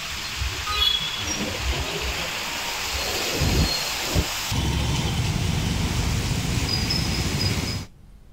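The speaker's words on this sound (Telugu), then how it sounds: "హైదరాబాద్లో కుండపోత వాన పడుతోంది" Torrential downpour with thunder over Hyderabad, a loud continuous roar of rain with deep rumbles rolling beneath it before the sound cuts off abruptly near the end.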